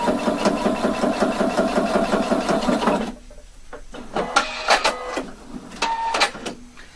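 A domestic sewing machine stitches the seam of a shawl collar facing, running in a steady rapid rhythm for about three seconds before stopping, followed by quieter clicks and handling noises close by.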